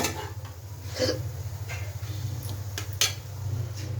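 A cooked vegetable is scooped from a pan onto a plate, giving soft scrapes and light metallic clinks of a utensil against cookware at an uneven pace, close by over a low background hum, with no speech.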